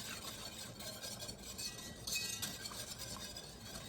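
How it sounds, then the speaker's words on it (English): A spoon stirs tomato juice from a can into a roux in a pot on the stove, giving a soft, steady scraping and faint clinks of metal against the pot, with no talking. "And just give that a good stir."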